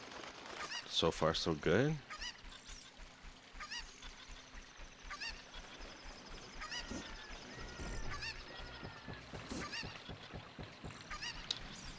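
Cucco chicken squawks in Ocarina of Time, a loud honking flurry up front, then scattered clucks and game effects with brief talk.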